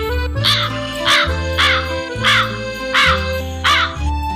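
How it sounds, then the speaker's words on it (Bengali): A crow caws five times in harsh, evenly spaced calls, loud and close with nothing else over it. "কাক, কাকের ইংরেজি ক্রো। কাক কেমন ডাকে?"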